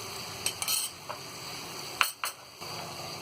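Ground onion with ginger-garlic paste sautés in a pan for kaju curry while a metal spoon stirs it, a few sharp scrapes and clinks over a low, steady sizzle.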